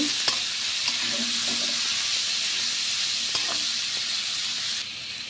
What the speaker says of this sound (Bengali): এখন আমি একটু নেড়ে চেড়ে দিচ্ছি।